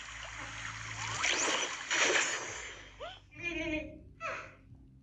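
Running water splashes and splatters over a toy being rinsed, a close, gushing rush with brief interruptions, mixed with voice-like sounds in the second half.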